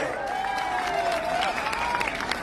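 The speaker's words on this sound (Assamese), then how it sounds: "এটা সুন্দৰ হাত চাপৰি হ'ব লাগে" Audience applause at a Raas festival prize ceremony in Howly: steady, continuous clapping from a crowd with a sustained tone running over it.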